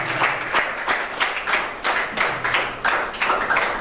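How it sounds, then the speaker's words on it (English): Audience applause at a school conference on nation building, a steady wash of many hands clapping close by for nearly four seconds, with no talking over it. "I want you all to join me once again to give a hand of applause to"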